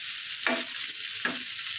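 Chopped onions fry with garlic and salt in a pan, a steady close sizzle broken by two brief scraping stirs about a second apart, with no voices.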